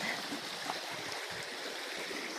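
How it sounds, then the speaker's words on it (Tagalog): A strong river current rushes steadily as a continuous broadband wash of flowing water, close and loud throughout with no talking. "malakas ang ilog"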